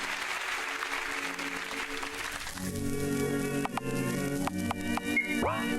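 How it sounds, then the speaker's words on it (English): Applause in the video game Over The Rainbow: Euphoria, a steady crowd of clapping that swells midway into a denser, louder burst with a few sharp accents, heard alone without talk. "I'll just obtain my applause again"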